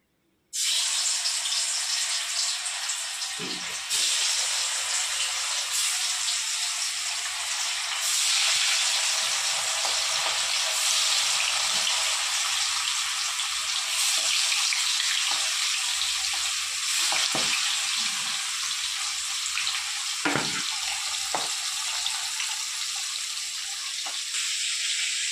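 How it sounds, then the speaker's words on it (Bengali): Magur catfish fry in hot mustard oil in a kadai with a loud, steady hiss and crackle from start to finish, close by, punctuated by occasional soft pops and knocks. "আমার কড়াইয়ে তেল গরম হয়ে গেছে। এবার এক এক করে মাছগুলো ছেড়ে দেবো।"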